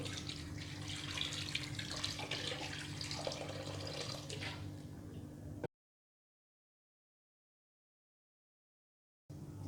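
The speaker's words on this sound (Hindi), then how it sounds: "इसमें हम 1 लीटर के करीब पानी ऐड कर लेंगे।" Water runs steadily in a continuous splashing stream into a pressure cooker pot for several seconds, about a litre for yakhni pulao, then stops abruptly, with faint sound resuming at the very end.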